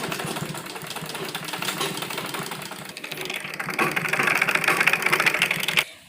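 A sewing machine stitches a men's kurta at home, a rapid mechanical whirring chatter running near and steady, growing louder and busier in the second half before stopping abruptly at the end.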